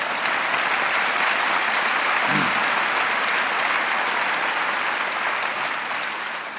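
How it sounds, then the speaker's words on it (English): Sustained applause from a large crowd at a university graduate commencement ceremony, steady and dense throughout, tapering slightly at the end. "That's worth a round of applause."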